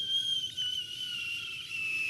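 A human voice imitates the whistle of a falling bomb with a steady, high, piercing tone that slowly drops in pitch and holds for about two seconds.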